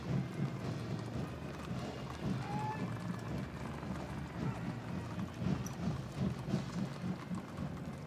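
Horses of the 1st Cavalry Division's Horse Cavalry Detachment clop along a street in a presidential inaugural parade, a continuous soft patter of many hooves heard from a distance under steady wind noise.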